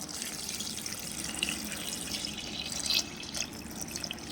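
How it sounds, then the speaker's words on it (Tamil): Water runs and splashes steadily into a container of garden fertilizer ingredients, a continuous trickling pour with a few brighter splashes near the end. "இது மூழ்கிற அளவுக்கு தண்ணி ஊற்றிக்குவோம்"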